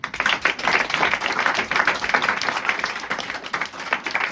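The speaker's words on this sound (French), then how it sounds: "on peut les applaudir franchement" Sustained applause from a theatre audience at an open-air festival show in Avignon, a dense, steady wash of many hands clapping at moderate loudness, with no voices standing out.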